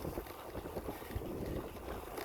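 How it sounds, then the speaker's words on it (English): Steady wind buffets the microphone during a bicycle ride along Old Cutler Road, a low continuous rumble with faint gusting, heard alone without talk. "It's a bit windy today."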